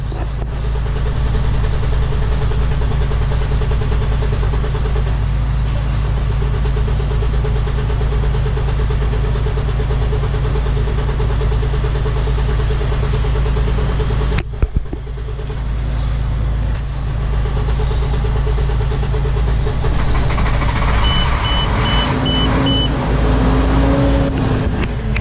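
An International truck's diesel engine cranks and runs rough on starting fluid, a loud, low, steady rumble close by that stumbles briefly partway through, then carries on with a faint high whine and hiss near the end.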